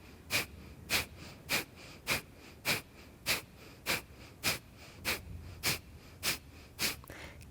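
Rapid, forceful yoga breath work: sharp, evenly spaced exhalations through the nose, about a dozen in steady rhythm, close and clear with no talking.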